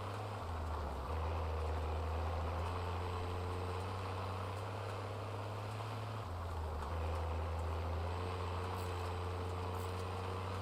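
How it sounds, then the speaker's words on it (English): Car driven in the video game Warzone: a steady low engine drone with a brief gear-like dip, continuous and fairly loud throughout. "we're gonna get in this car and"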